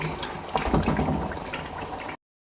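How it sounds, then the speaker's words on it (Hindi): Water is poured into a pot of cooking chicken haleem, a short splashing, bubbling pour heard close up for about two seconds before cutting off. "अब मैं इसमें पानी शामिल करके इसे गलने के लिए छोड़ दूँगी।"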